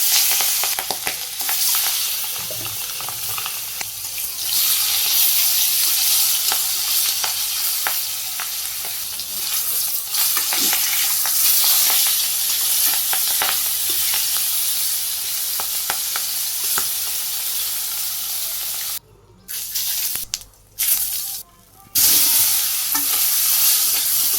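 Fish fries in hot oil in a home kitchen, giving a continuous dense sizzle and crackle with occasional stirring scrapes and a few brief dropouts, steady and close throughout.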